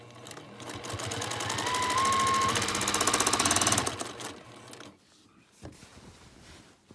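A quilting sewing machine stitches a feather pattern into a quilt border, a fast, even needle clatter that swells over a few seconds, then stops, followed by faint handling sounds.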